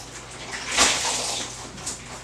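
Water runs and splashes inside a latex garment as it is rinsed, a brief soft gush that swells and then settles.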